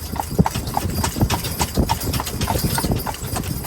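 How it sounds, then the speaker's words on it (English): Horse hooves clip-clop in a steady, even rhythm as a horse pulls a jaunting cart on a road near Killarney, close and clear, with a faint background hum. "which happens to have, as one or two places have, jaunting carts, so we took a ride in one"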